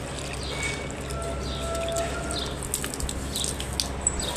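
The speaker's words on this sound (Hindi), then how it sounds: "पानी डाल देती हूँ चिड़ियों के लिए" Water poured into a small container for birds on a hot rooftop: a soft, steady pour that turns to uneven trickles and splashes toward the end, close and moderate in level, with no talk.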